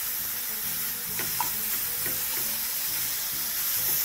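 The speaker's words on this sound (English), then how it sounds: "always pay attention to your pan. Of course, tossing continuously, making sure to get a nice even coloring of your meat" Lamb meat frying in a pan and tossed continuously, a steady close sizzle with soft scraping and stirring sounds scattered through it.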